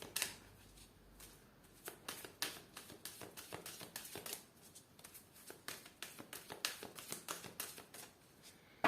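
Tarot cards are shuffled close up for a relationships reading, with rapid, repeated crisp riffles and taps in irregular bursts, fairly quiet and with no talking.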